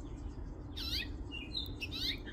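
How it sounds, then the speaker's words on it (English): A female house finch in residence chirping and squawking nearby, two quick bursts of bright, rasping calls about a second apart over quiet room hum. "This is the mama. House Finch."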